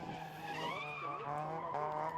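A Toyota Corolla rally car at the start of the TAC Rally in Tielt screams through its engine revs with a rising and wavering tone, tires scrabbling and skidding, steady and fairly distant.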